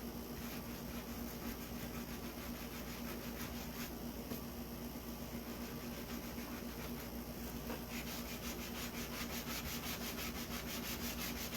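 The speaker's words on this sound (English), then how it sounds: "Gotta sand really hard." Hand sanding on a pizza pan doorhanger craft piece makes a faint, continuous rhythmic rubbing that rasps back and forth evenly throughout, with no voices.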